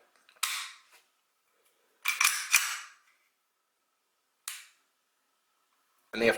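HK USP .40 S&W pistol being dry-worked, a few sharp isolated mechanical clicks and snaps of the trigger reset spaced by silence, close and fairly crisp.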